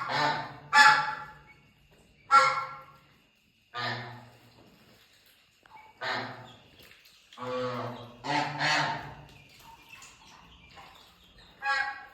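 Loud honking calls in scattered bursts, several ducks calling close by with pauses between.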